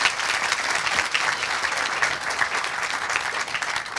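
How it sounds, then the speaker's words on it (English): An audience applauding at a community Eid party, a continuous crowd of hands clapping at moderate volume with a slightly uneven, rippling texture and no voices on top. "Please give them a big round of applause"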